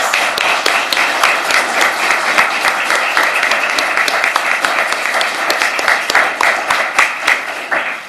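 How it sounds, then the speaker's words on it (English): A crowd at a county commissioners and soil and water candidate forum applauds steadily, a dense, sustained wash of clapping that holds for several seconds before easing slightly at the end. "Let's give them a big round of applause."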